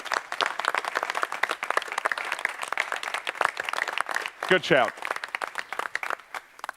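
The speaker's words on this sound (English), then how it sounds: "So give yourselves a round of applause." Sustained audience applause at the Security Fest 2025 conference, a dense wash of many clapping hands under continuous talk from the stage.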